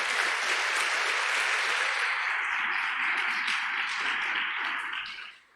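A church congregation applauds in a steady, dense wash of many hands clapping, sustained at even loudness for about five seconds before tapering off at the end, with no talking over it.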